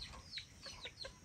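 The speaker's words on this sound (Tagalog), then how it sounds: "May mga inahin pa oh." Hens cluck in a rooster-keeping yard, several short close calls in an uneven rhythm over quiet outdoor background.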